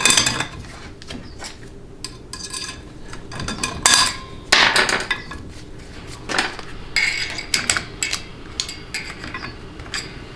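A thick steel snap ring worked into a Ford C6 / E4OD / 4R100 transmission direct drum, giving irregular metallic clicks, clinks and scrapes close by, with no talk.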